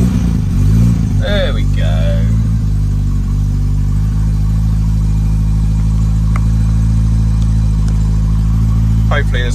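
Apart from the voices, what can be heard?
Lotus Elan engine cranking and revving on throttle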